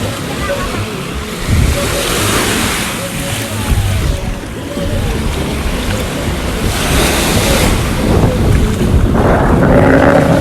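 A boat ride on the open sea near a beach: steady rushing water and hull wash with gusting wind buffeting the microphone, continuous and fairly loud throughout.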